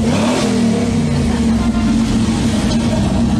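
Classic car engine revving at a historic race day at Istanbul Park, a steady loud droning roar with a strong low hum that holds throughout, with no talk over it.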